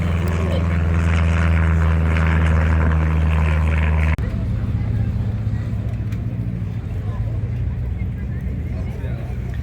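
Old propeller aeroplanes flying at the La Ferté-Alais air festival in France, with a loud, steady piston-engine drone that shifts pitch after a few seconds, heard up close and without talk.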